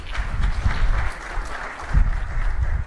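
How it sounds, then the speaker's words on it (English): Summit audience at the Investopia Global event gives a round of applause, moderately dense clapping with some low rumble and bumps underneath, fairly close. "can we have a round of applause"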